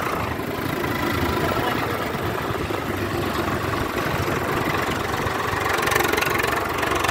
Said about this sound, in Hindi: 2018 मॉडल ट्रैक्टर है।